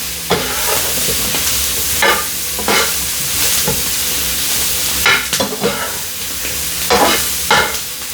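Brussels sprouts sizzle and fry steadily in a hot pan, with repeated stirring and flipping scrapes breaking through the constant crackle at close range.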